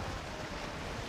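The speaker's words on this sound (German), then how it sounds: "Das sind wirklich hohe Wellen das heute." Rough seas in the video game Valheim give a steady, broad roar of waves with wind noise mixed in, filling the whole moment with no talk.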